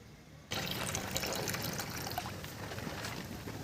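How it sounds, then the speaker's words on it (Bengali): Water running while Gobindobhog rice is washed and drained, a soft trickle that jumps to a steady close pouring splash after a brief quiet start, no talking. "এবারে আমি চালটা ঝারিয়ে নেব।"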